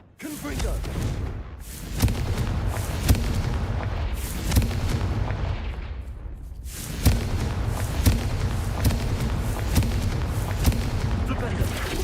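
Repeated Confringo blasting spells cast in the Hogwarts Legacy video game, a string of loud booming blasts at a steady rhythm, each a sharp thump with a rumbling tail, continuing over a constant dense background roar.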